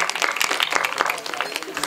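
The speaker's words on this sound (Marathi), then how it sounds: "दादांसाठी एकदा जोरदार टाळी होत्या." An audience at a Marathi kirtan performance gives a burst of uneven, crisp hand claps for the singer, with voices mixed in over the clapping.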